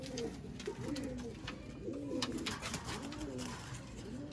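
Pigeons cooing in repeated soft, throaty rolling calls, several birds overlapping at moderate distance over a steady background hiss and murmur.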